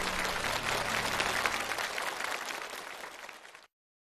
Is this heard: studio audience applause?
yes